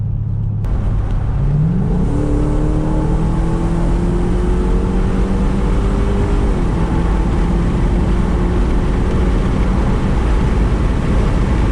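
A 2018 Dodge Durango 5.7L V8 fitted with long tube headers, heard from outside as it is revved hard, the pitch climbing through a sustained pull and then dropping back, loud and continuous throughout.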